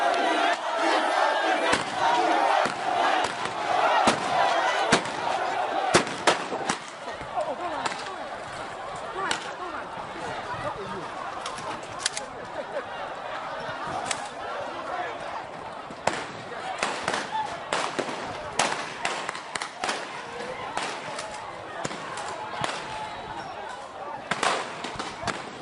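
Police fire warning shots and tear gas at a crowd of traders: sharp cracks and bangs burst repeatedly and unevenly over continuous loud crowd shouting and commotion for the whole stretch.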